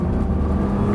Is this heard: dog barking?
no